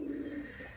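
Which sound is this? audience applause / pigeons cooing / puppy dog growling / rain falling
pigeons cooing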